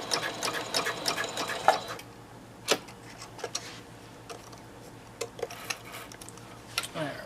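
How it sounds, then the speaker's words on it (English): A sewing machine stitches pleats into folded, knife-edged mask fabric, with a fast buzzing run for about two seconds followed by quieter scattered clicks and taps at close range. "Then you sew the pleats into the folded fabric."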